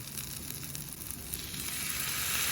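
Onions sizzling with black pepper sauce on a Blackstone griddle, a steady close hiss that swells louder toward the end as the sauce hits the hot surface.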